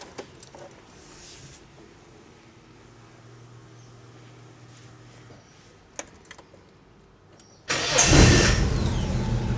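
After some quiet handling clicks, a VL Commodore engine cranks and catches, settling into a loud, steady running rumble near the end.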